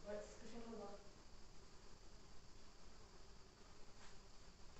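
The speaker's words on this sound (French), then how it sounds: "Il y a un gros nid de guêpes quelque part aussi" Wasps buzzing near a large nest inside an abandoned luxury villa, a steady faint insect drone under brief speech at the start.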